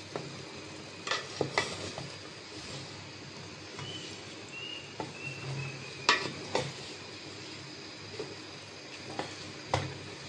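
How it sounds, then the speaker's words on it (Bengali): Chicken pieces and rice for biryani stirred together in a cooking pot: irregular scraping and clanking strokes of a spoon, spread across the clip over a low background hiss, with no talking. "নাড়াচাড়া দিয়ে দিব।"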